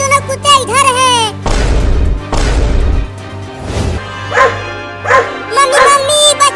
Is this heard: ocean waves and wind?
no